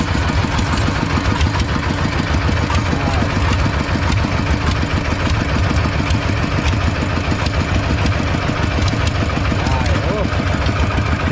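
A truck hauling eucalyptus logs idles on wet, muddy ground with radial tyres, its engine chugging in a loud, steady, rhythmic rumble close to the microphone throughout.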